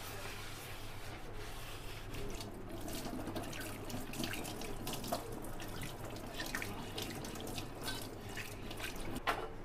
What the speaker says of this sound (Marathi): हा तवा घासण्यासाठी असा स्पॉन्ज वापरायचा आहे